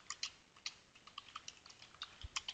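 Fast typing on a computer keyboard while HTML code is entered, with quick, uneven key clicks close by, heard alone and fairly soft.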